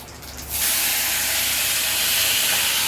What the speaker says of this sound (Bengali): পুঁটি মাছগুলো ভেজে তুলে রেখেছে মা, এবার ঢেঁড়স দিয়ে দিল